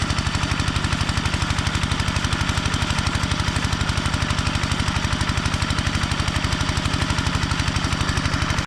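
A small engine drives an irrigation pump watering an okra field, its rapid, even thumping pulses running loud and unbroken from start to finish, with no voices.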